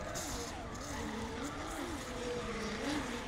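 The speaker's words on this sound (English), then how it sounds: "you can hear him really working that car" A drift car engine revs and wails continuously at a distance during a pro-am drift competition qualifying run, its pitch rising and falling as it works through corners, with faint tire noise.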